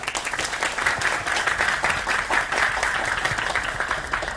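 Applause from an audience at a Korean university student forum, moderate and steady for a few seconds, somewhat distant and even in texture.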